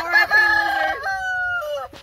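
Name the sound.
chickens clucking while eating a lizard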